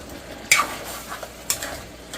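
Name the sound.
stirring pork pochero with tomatoes in a pan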